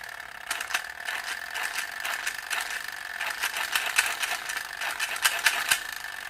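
A Fisher-Price toy helicopter's mechanism runs smoothly, giving a steady, fast, light ratcheting clatter that continues evenly throughout with small irregular bursts.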